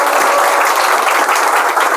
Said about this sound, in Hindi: बहुत सारी तालियां, बहुत बहुत धन्यवाद।